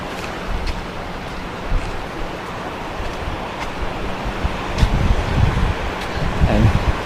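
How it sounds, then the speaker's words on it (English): Strong seaside wind buffets the microphone near a lighthouse and fishing pier on Sanibel Island, a steady loud broadband roar with surf-like surges and gusts swelling toward the end, no speech over it. "you can probably hear it's pretty dang windy"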